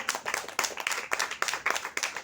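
Audience applause at a poetry tribute gathering, fairly faint, with claps falling into a steady rhythmic beat, as if people are clapping along together.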